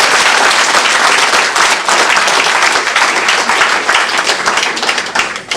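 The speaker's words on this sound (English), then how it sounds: "let me use a round of applause on that one." An audience at a book club event gives a round of applause, loud and close, with continuous dense clapping that carries on throughout and has no speech over it.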